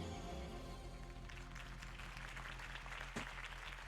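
A crowd in Telltale's The Batman video game applauds, a steady wash of clapping that rises under a sustained low musical tone, continuous and moderately loud throughout.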